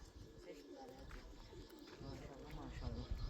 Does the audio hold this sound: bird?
yes